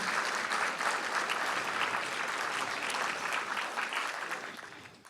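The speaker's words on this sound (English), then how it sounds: "Could we please have another round of applause for Julia?" An audience at a city Martin Luther King Jr. celebration in Davis applauds for Julia, a sustained, dense wash of clapping from a large crowd that holds steady, then tapers off toward the end.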